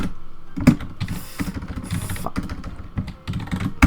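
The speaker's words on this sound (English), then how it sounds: "Completely failed at touch typing there" Fast typing on a computer keyboard, a close run of irregular clattering keystrokes with a few louder key hits, no talking.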